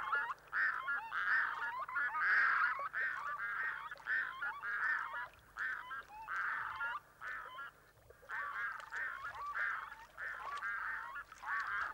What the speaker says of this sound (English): the loons vocalize an all clear. Known as the plesiosaur call, it is performed with the head down and lower beak in the water